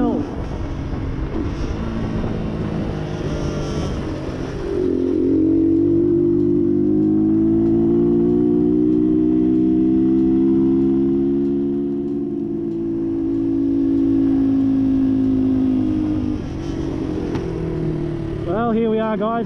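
A motorcycle with a new exhaust and carburettor tune pulls up a hill, its engine note holding a strong, slowly rising drone that fades back at the end, with a voice speaking over it.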